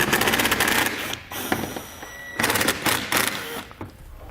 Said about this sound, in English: You're going to want to grab a T25 Torx bit, and we can pull these screws out